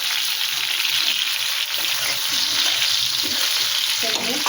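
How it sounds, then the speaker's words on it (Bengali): Pointed gourd fries in oil with salt and turmeric, a continuous dense sizzle with the faint scrape of stirring mixed in, close and even throughout. "লবণ দিলাম, হলুদ দিলাম, দিয়ে ভালো করে আগে ভেজে নেব।"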